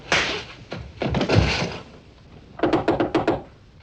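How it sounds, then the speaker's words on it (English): Knocking on a wooden door in a 1950s drama scene: a few heavy thuds first, then a quick run of five sharp raps, close and clear with no talk over them. "Answer the door."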